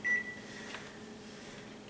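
A kitchen timer sounds during a precalculus lesson: a sharp, steady electronic beep at the start, fading into a faint lingering tone over quiet room noise.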